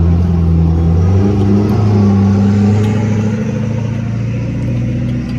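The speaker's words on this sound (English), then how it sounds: "I'm right at a cross street, so there's lots of car noise" Steady car traffic at a cross street: close, loud engine drone and rumbling vehicles pass continuously with no pause.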